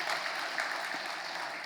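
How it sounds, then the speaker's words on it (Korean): A church congregation at a Sunday worship service breaks into brief, steady applause, a dense even patter of many hands lasting under two seconds. "함께 하시는 하나님께 영광의 박수 한번 올려드리겠습니다."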